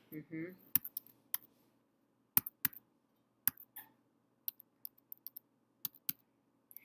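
Scattered keyboard keystrokes, sharp and clicky, tapping in uneven bursts and pauses, with a brief murmur of voice at the start.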